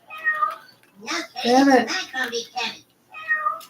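Meows of the South Park cat Mr. Kitty, voiced by a person imitating a cat: several drawn-out, whiny meow-like cries in a row, close and clear, with a brief spoken line mixed in.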